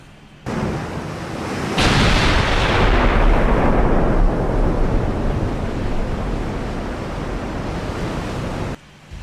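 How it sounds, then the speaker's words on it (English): A full gun salvo from the battleship New York in a naval warfare game, set in a 1920 campaign: a sudden loud boom swelling into a long, broad rumbling roar that slowly fades, with no talk over it. "2 hits from that full salvo from the New York"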